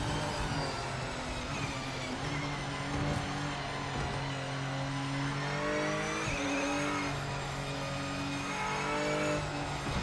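A GT3 race car in Project Motor Racing runs continuously, its engine note rising and falling through gears with brief tire squeal, loud and close with no talking.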